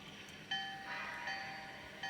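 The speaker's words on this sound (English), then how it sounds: "So let's turn on the bell to start with." A DCC sound-equipped Bachmann Alco 2-6-0 model locomotive rings its bell in a steady, repeating clang from a small onboard speaker, moderately loud and alone without talk.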